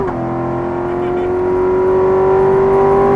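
A race car engine on track pulls hard after an upshift, a loud steady whine that climbs slowly in pitch as the car accelerates, with no talk.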